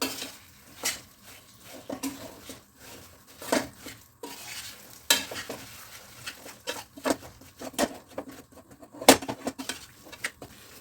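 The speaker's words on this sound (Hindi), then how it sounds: "इसलिए इसको पूरे इसको अच्छे से चलाते हुए हमें पिघालना है" A spoon scrapes and clatters against a pot while jaggery lumps are stirred to melt, giving irregular metallic knocks and scrapes over a soft sizzle, close and fairly quiet.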